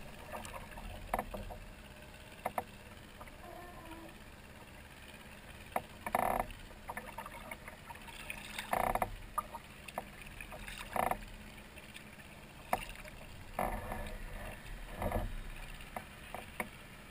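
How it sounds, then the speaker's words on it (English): Paddle strokes splash and drip at irregular intervals as a kayak moves over a river, with quiet outdoor ambience between strokes. "I've got to turn the kayak towards the main channel."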